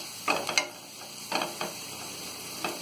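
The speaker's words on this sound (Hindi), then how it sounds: "इसी में ये लाल मिर्च, इन चीजों को अच्छी तरह हम मिक्स कर देंगे।" Red chili and spices are mixed in a cooking pan, with a soft sizzle under a few distinct scraping strokes of a spoon in short bursts, close by and without speech.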